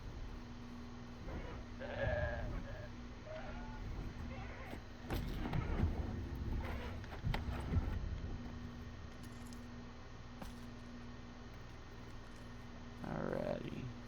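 Two goats in Pax Dei give a few brief, faint bleats spaced apart over quiet outdoor ambience, with soft footsteps and rustling between the calls.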